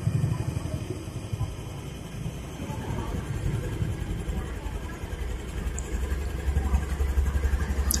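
Motorcycle engine held at a steady fast idle with partial throttle, a moderate continuous hum with a slight rise in revs toward the end, recorded close in a workshop setting.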